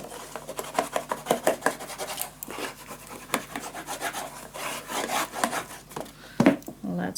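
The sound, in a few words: burnishing paper onto a scrapbook storage tower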